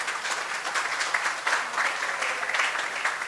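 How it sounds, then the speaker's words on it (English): An audience claps steadily and densely at a temple and community centre grand opening, a sustained wash of applause with no talking. "So big round of applause to her for that."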